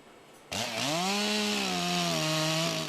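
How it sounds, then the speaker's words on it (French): Chainsaws cut through storm-damaged trees in a park during cleanup after a storm, their engines roaring up loudly after a short quiet moment, then holding a steady, close, high whine. "Les tronçonneuses hurlent, ces élagueurs sont sur le pont"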